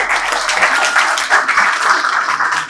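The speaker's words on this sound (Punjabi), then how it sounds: "ਕੁੜੀ ਲਈ ਕੁਝ ਤਾੜੀਆਂ ਲਾਈਏ ਯਾਰ" A classroom crowd claps steadily for a girl just selected to the Punjab Police, dense sustained applause at a Bathinda coaching institute, loud and continuous without speech.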